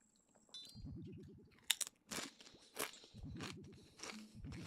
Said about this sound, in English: I shouldn't be eating crunchy things.